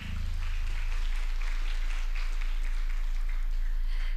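Moderate audience applause follows a guest lecture on patient safety in the Philippines, a steady patter of clapping over a strong low electrical hum.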